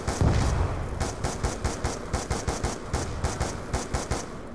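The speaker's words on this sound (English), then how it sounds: "SMR sucks when you shoot long range." An SMR rifle firing in Black Ops 2 Zombies, a rapid run of about fifteen evenly spaced sharp shots with little pause, loud and close, with no talking over it.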